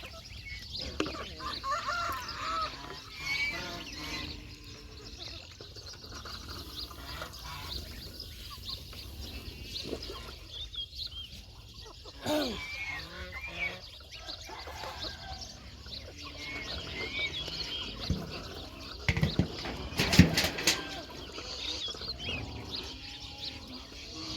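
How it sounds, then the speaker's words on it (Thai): Ducks and chickens on a rural Thai farm in the morning, with soft clucking and quacking at moderate distance amid rustling and outdoor background noise, with a sharper burst of activity near the end. "นี่แค่นี้ได้เลี้ยงเป็ดเลี้ยงไก่"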